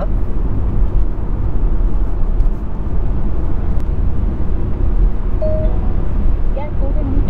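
A car climbs out of an underpass in rain as the driver presses the gas, its engine and road noise forming a steady, loud rumble throughout with brief faint tones on top.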